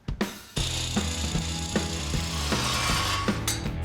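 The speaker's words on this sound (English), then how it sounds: "So I'm gonna cut the end of this off and see what it looks like." A power tool cuts off the end of a part on a Metropolitan hot rod build: a loud, near, continuous grinding rasp, preceded by a few short bursts, with a repeating rhythmic pulse as it bites.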